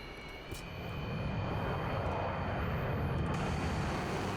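MiG-31 jet engines with afterburners lit in the DCS World flight simulator, a loud, steady cockpit roar that swells within the first second and holds strong to the end.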